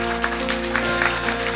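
A church congregation claps together in a short, dense burst of applause, heard from within the crowd.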